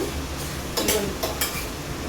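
Eggplant and pigeon pea curry cooking in a pot, with a few close metallic clinks and scrapes of a utensil stirring against the pot over a low background hum.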